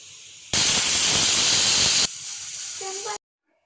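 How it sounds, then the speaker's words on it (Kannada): A pressure cooker cooking sambar lets out a loud, close burst of hissing steam, which drops to a softer hiss and then cuts off abruptly, with a brief whistle-like tone near the end. "ಎರಡು ವಿಷಲ್ ಆಗಿದೆ, ಕುಕ್ಕರ್ ಪೂರ್ತಿ ತಣ್ಣಗಾಗಿದೆ"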